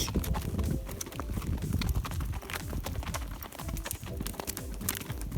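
Horse hooves clip-clop steadily and fairly close on firm ground, a busy run of overlapping strikes with no talk over them.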